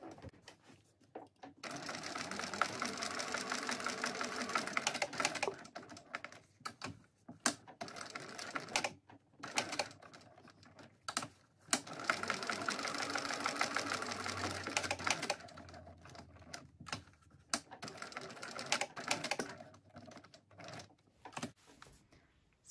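A sewing machine stitches a Lomexa handbag without back stitching. It runs in long, fairly quiet bursts broken by short stops and restarts.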